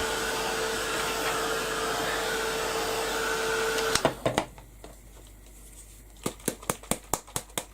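A hair dryer blows steadily on a craft project freshly spritzed with gold Tattered Angels mist, a loud continuous whoosh that cuts off abruptly, followed by a series of sharp clicks and taps.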